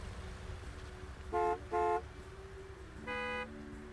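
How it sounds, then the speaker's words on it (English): A car horn honks in the Gas Station Simulator video game, three short toots in quick succession over a low hum of background sound. "who's honking now?"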